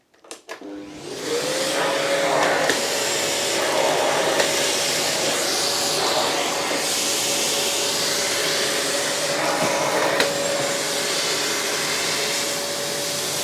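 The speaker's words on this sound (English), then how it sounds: "it's picked the rice up and stuff, but I guess now I will reduce the suction from the handle" An AmazonBasics vacuum cleaner runs steadily at close range, sucking up scattered rice and crackers with a loud, continuous whirring roar and a sustained whine, with brief rattles as debris is pulled in.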